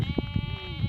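A sheep bleats along a nature trail, a close harmonic bleat held through the second with faint wind and handling noise beneath.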